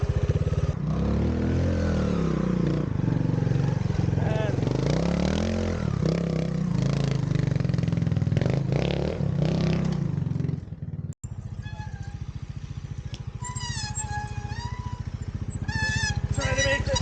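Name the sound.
Montesa Cota 301rr trials motorcycle climbing and turning on hill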